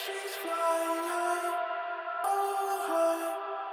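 Auto-tuned vocal harmony layered for a future bass track, a stack of steady sustained pitched tones with a bright, processed quality, swelling in two phrases across nearly four seconds without any talking.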